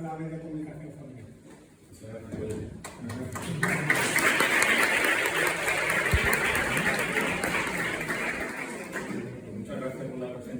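Audience applause welcoming a speaker at a talk on family communication; a broad wash of clapping swells in partway through, holds steady for several seconds, then tapers, with voices audible around it.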